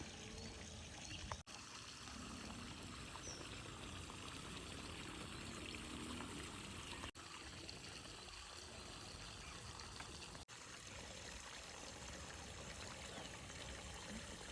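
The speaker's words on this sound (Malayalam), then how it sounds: "ഇതാണ് കേട്ടോ നമ്മളെ മൈക്രോ സ്പ്രിങ്ക്ലർ എന്ന് പറഞ്ഞ സംഭവമാണ്" Micro sprinkler watering a spinach and banana plot, a steady, even hiss of spraying water running continuously with no pauses.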